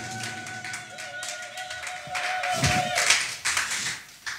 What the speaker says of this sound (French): Acclame le Seigneur Jésus-Christ